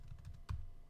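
A few quick keystrokes on a computer keyboard while entering a router command, light soft taps ending in one sharper, heavier key press, close and quiet.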